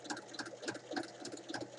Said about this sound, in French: je vais faire une surpiqûre.